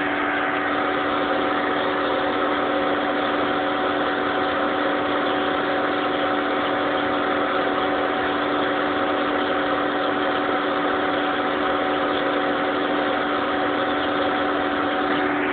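Hayward Ecostar variable-speed pool pump running at speed 3, 2500 RPM, giving a steady, loud motor whine and whooshing hum that holds constant throughout, with no voices.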